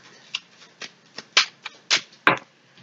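Tarot cards drawn one by one from a deck, giving a series of about eight crisp papery flicks and snaps at an uneven pace, close and fairly clear with no talking.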